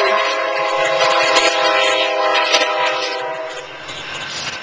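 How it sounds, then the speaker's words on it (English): A loud train rushes past close by, a dense roar with a sustained horn-like tone that fades slightly toward the end. "There goes the train."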